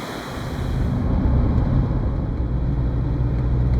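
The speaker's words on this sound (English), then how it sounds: "there's these waterfalls here flowing down" Waterfalls flow down beside a road in Sweden, a steady broad rushing roar that rises after the first second and holds constant, close and loud, with no talk.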